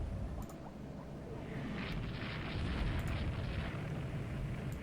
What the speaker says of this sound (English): And Henley's hit by a torpedo